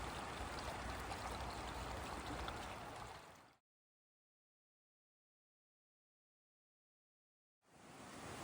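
Creek water rushing steadily over rocks at Big Cedar crossing on the Ouachita Trail, a dense close wash of flowing water that cuts off abruptly into silence partway through, then returns.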